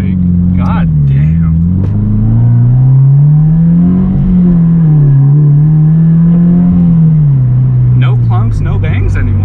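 A lowered Toyota GT86 on coilovers drives close past, its engine holding a loud, steady drone that rises and dips as it revs, with people talking briefly over it at the start and end.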